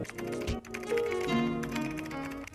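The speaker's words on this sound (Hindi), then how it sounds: "एक साउंड इफेक्ट है, उसका नाम है कीबोर्ड टाइपिंग साउंड इफेक्ट।" Keyboard typing sound effect: rapid clicking keystrokes in a short burst, fairly quiet, with tonal music or background sound running underneath.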